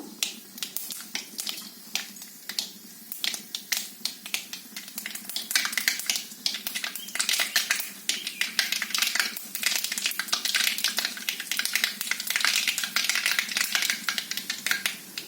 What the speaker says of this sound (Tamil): இப்போ கடுகு போட போகிறேன் கடுகு நல்லா பொறிக்கிட்டோம்